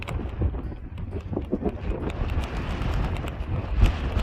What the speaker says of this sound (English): Terribly windy.